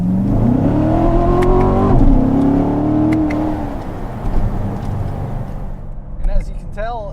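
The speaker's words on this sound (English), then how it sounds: "we'll do our full throttle run here real quick" A 2014 Corvette Stingray 3LT Z51 in track mode with manual shifting makes a full-throttle run, its engine note climbing loud and close, dropping at an upshift near two seconds, climbing again, then fading to a lighter whir.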